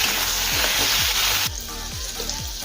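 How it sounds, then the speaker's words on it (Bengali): Pointed gourd (potol) fries in oil with salt and turmeric, giving a steady, close sizzle with a few soft stirring scrapes; the hiss drops noticeably quieter halfway through and continues alone. "পটল লাল করে ভেজে নেব।"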